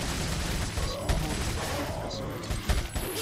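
Gunfire in Resident Evil 4 on PS4 at the Giant Gear Tower, a few sharp shots cracking over a dense, noisy game soundscape, with someone talking during it.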